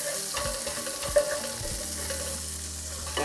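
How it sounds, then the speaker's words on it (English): Yellow onion sautéing in oil in a pot for carne guisada beef stew: a steady, close sizzle and crackle with occasional scraping stir sounds and a low background hum, no talking. "we're going to add 1 yellow onion. We're going to saute for 2 minutes"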